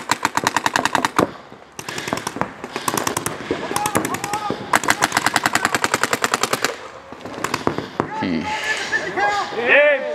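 Paintball guns fire in long rapid bursts at a mic'd-up paintball match, loud and close, with sharp rhythmic pops separated by brief pauses. Players shout and talk between and over the volleys.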